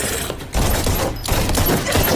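Rapid gunfire in the zombie film Day of the Dead, a loud dense burst of shots with short gaps, close and harsh, with no talk over it.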